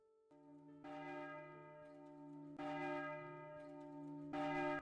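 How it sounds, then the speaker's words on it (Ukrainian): Deep church bells ring out in slow succession, each strike swelling and sustaining with a long, resonant tone that overlaps the next. "Мить, коли дзвони задзвонили."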